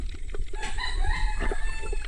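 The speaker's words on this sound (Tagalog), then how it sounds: "Ops, may manok." A chicken clucks and calls in short bursts close by, over a low rumbling background, heard during an underwater spearfishing dive.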